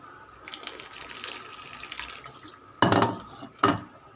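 Water runs and pours steadily into a bowl while a moti ladoo sweet mixture is being prepared, followed by two sharp, close clatters of utensils against a dish.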